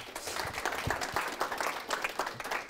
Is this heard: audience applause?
yes